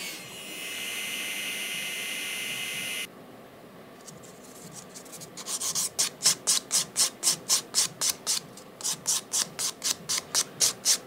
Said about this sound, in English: filing down some of the bulk of the nail